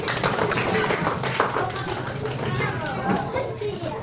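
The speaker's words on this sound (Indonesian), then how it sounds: "Oke, tepuk tangan dulu ya." A classroom of children claps together, a busy patter of hand claps mixed with chatter and young voices, fairly close and steady.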